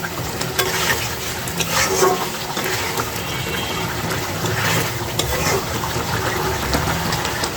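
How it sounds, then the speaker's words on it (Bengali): Coriander leaves are stirred into a spicy chasni curry in a pan: steady sizzling and bubbling with repeated scraping of the spoon, close and continuous throughout. "এখন ভালো মতো একটু নেড়ে দিব যাতে ধনে পাতাটা একটু মিশে যায়"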